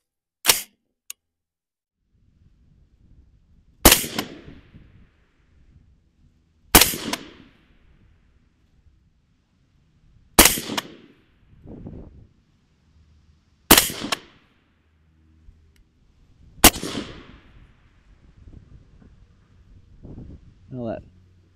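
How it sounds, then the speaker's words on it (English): A suppressed 11.5-inch AR rifle fired at a 50-yard outdoor range: sharp, loud reports spaced roughly three seconds apart, each followed by a short decaying tail, with quieter low sounds between shots. "Now I'm going to put 5 rounds on the bottom left dot."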